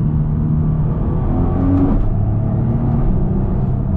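A Nissan GT-R running E85 revs while driving, a steady loud car rumble that rises briefly in pitch with a gear-change blip midway, heard from inside the car.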